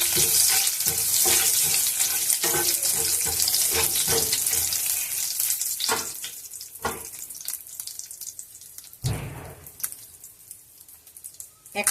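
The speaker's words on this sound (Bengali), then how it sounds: "শুকনো লঙ্কা আমি ফাটিয়ে দিয়েছি ফোড়নটা আমার ভাজা হয়ে গেছে" A Bengali-style tempering of bay leaf, dried chilli and cumin sizzles and crackles in hot oil. The sound is loud and busy at first, then thins into scattered pops and spatters, with clatter from a utensil toward the end.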